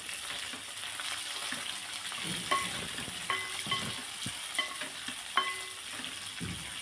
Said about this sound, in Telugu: పొడుగా తరిగి పెట్టుకున్న ఆనియన్ ముక్కల్ని వేసుకొని ఫ్రై చేసుకోవాలి